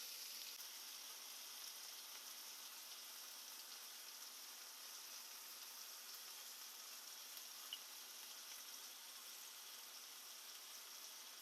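Marinated steak sizzles on a griddle, a steady, even hiss of frying that holds at the same level throughout with no talking over it.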